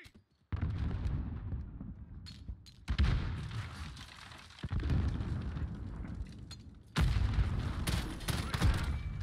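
A cooked grenade detonates in Call of Duty Modern Warfare: several heavy, rumbling blasts arrive in succession, each sudden and loud with a lingering roar, amid crackling battlefield noise.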